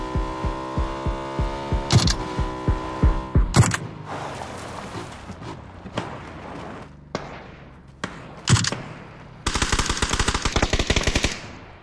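Bursts of rapid automatic gunfire and single loud shots in a video game, close and harsh, over a steady hum, ending in a sustained rattling volley.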